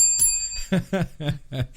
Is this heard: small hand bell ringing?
yes